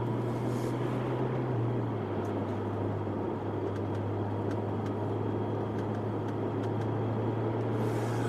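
A 560 hp Ferrari California T runs at full throttle, a steady, loud engine drone heard from inside the car, its pitch stepping up slightly early on and then holding.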